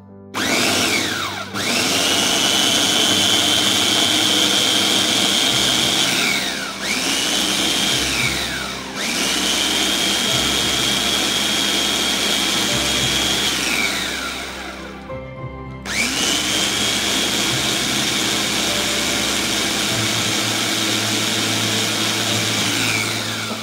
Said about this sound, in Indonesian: Bumbunya kita haluskan.